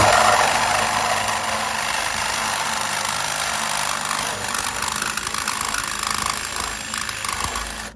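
Small drill bit boring a starter hole in metal on a car's wastegate dump pipe, a steady loud whirring grind that runs continuously and eases slightly toward the end.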